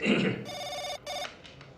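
A telephone rings in two electronic bursts with a brief gap between them, loud and close, then fades.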